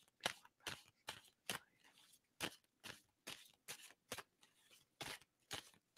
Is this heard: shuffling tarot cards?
yes